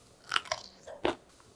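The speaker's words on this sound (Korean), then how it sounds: "아삭아삭한 식감 들리시죠?" Close, crisp chewing crunches on a soy-sauce pickled chili pepper, three distinct bites in quick succession with quiet pauses between.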